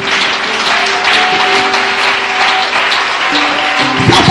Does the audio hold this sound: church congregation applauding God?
yes